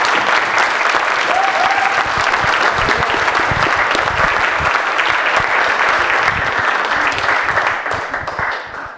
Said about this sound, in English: I think he really deserves a round of applause for the work he did